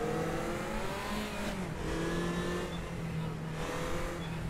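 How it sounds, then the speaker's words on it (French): A historic race car engine in the RaceRoom racing game revs hard and steadily, its pitch climbing and dropping with shifts, loud and continuous throughout. "Moteur fort là-dedans."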